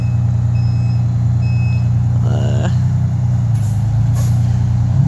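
A 1993 fire engine with a Detroit Diesel 6V92 two-stroke engine pulls out with a loud, steady droning rumble close by, while brief reversing-style beeps and a hiss of air are heard partway through.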